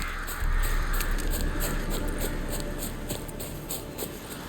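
Harsh crow-like caws repeat in a regular pulse over a steady ambient rumble, birds tied to a Leshen in the video game The Witcher 3: Wild Hunt, fairly loud and close with no talk.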